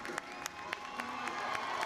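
Stadium crowd at a college baseball game in Clark LeClair Stadium applauding a walk, a steady wash of clapping and cheering with periodic louder bursts and a faint tone running underneath.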